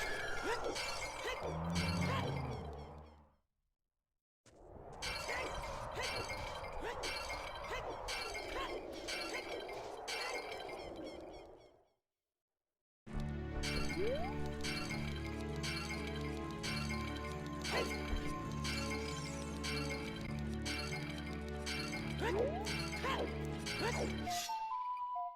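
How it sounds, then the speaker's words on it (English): Pots smash in the video game Ocarina of Time, here a randomizer with a swapped low-health sound, giving repeated bright shattering and clinking bursts over busy game music, broken by two short silent gaps. "It's the sound of a pot smashing."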